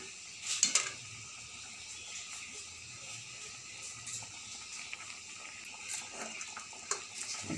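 Bora fritters dropped one by one into a pan of simmering gravy, giving a soft steady bubbling sizzle with a few brief splashy clinks near the start, fairly quiet and with no talking.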